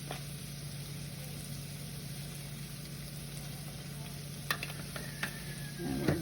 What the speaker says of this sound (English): make sure you scrape the bottom of the pan so you get the flour up off the bottom and onto the sausage